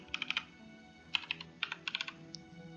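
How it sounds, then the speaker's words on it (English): Quiet typing on a computer keyboard while entering a search term, with short clusters of crisp key clicks separated by brief pauses and a final single tap. The clicks sound close and light against a soft background hum. "Let's type in suppression."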